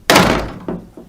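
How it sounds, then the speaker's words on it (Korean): A door swings shut with one heavy thunk, followed by two softer knocks as it settles into the frame. Close and brief, with no voices. "나도 문을 닫고 집으로 들어갔다"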